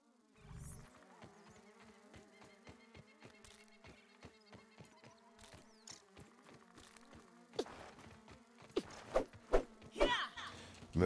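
Flies drone in a steady, close buzz in the game Grounded, with pulsing wingbeats, later thumps, and a voice nearby.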